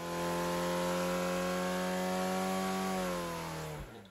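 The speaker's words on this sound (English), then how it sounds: "If we skip to a clip of an engine on a dyno, you'll see the belt whipping" A 2.3-litre Pinto race engine runs on a dyno at high revs, giving a loud, sustained droning whine with a whipping belt, then abruptly dropping away near the end.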